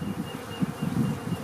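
Honeybees buzzing at an open hive during an inspection, a soft, fluttering hum of many wings close by that pulses irregularly.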